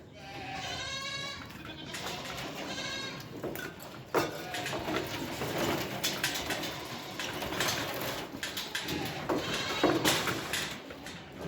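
Goats bleating at a goat farm, repeated wavering bleats from several animals near and far, over a busy background of shuffling and clattering.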